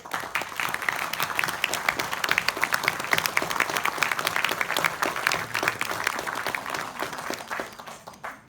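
A room of audience members claps steadily for several seconds, a dense, even patter of many hands at moderate loudness that fades out at the end.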